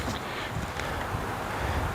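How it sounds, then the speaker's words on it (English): Gusty wind buffets the microphone outdoors during setup of a baseball backstop net, a continuous rough rushing noise with no voices. "Pretty windy today, so we'll see how well this sets up here."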